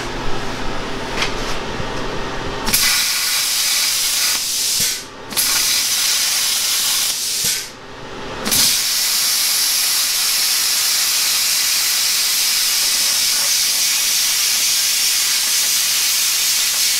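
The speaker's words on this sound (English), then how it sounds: "We're gonna use the plasma cutter" A plasma cutter slicing metal control-arm plates for an Armorlite Bronco build gives a loud, steady hiss of rushing air, broken by two short pauses, then a continuous roar.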